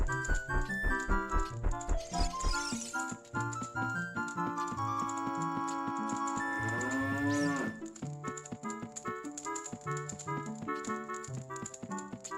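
A cow in Horizon Forbidden West gives a long, loud moo that swells and fades over a busy background of rhythmic clicking and tapping.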